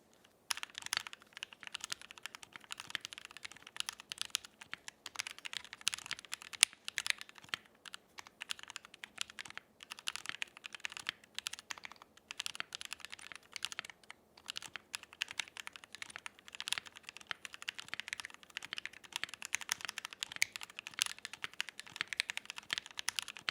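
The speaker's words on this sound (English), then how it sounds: "Let's actually go to a typing test." Fast, continuous typing on a Tofu 65 custom mechanical keyboard with a gasket mount and foam mod, dense muted clacks with occasional deeper spacebar thocks, close and alone.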